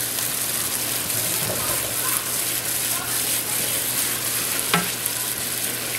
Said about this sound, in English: Now you gotta stir, stir, stir.